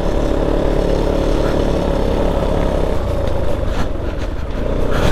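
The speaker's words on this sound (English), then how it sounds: "I'm just getting fed up of listening to the engine going." A motorcycle engine runs continuously close by, a loud, steady droning rumble with no pauses.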